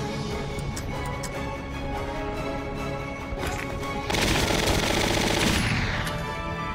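Automatic gunfire from the video game Valkyria Chronicles Remastered, rapid bursts of shots that grow into a loud, dense volley near the end, with no talking.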